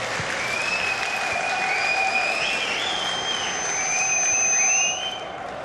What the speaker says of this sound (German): zur Motivation für Bayern nochmal einen richtig dicken Applaus